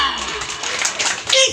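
Hands clap in a quick, uneven burst of sharp slaps, mixed with children's voices talking and calling out nearby.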